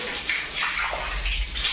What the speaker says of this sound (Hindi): तुझे फेस पे अगर पानी डालेंगे तो पूरा कॉफी परेशान हो जाती है